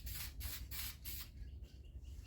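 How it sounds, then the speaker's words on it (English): Polyurethane coating sprayed onto toilet parts from an aerosol can in four short hissing bursts at a steady rhythm, close and fairly loud, followed by softer rustling. "Now I'm going to spray these here, coat them."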